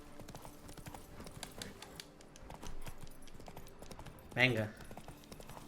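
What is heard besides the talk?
horse hooves in video game The Witcher 3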